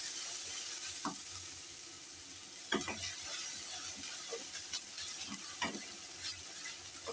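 Onion paste and dry chillies spatter in a frying pan, a steady soft sizzle with occasional sharper pops and stirring scrapes. No voices.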